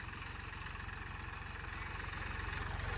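A tractor engine chugs steadily in a low, even rhythm, quiet and constant, with no voices.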